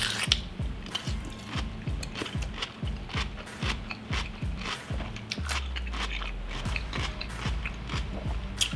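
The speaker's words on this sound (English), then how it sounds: "I'm going to start off with cucumber, and this stuff does take a while to eat" Raw cucumber is eaten with loud, close, wet crunching bites in a quick, steady rhythm that continues throughout, with no talking.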